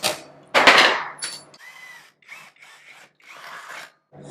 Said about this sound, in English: But I'm going to drill it.